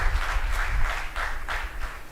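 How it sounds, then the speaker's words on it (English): Audience applause for the winners at an innovation week event, steady clapping from a crowd for about two seconds with no talk over it. "Congratulations. Let's cheer to them."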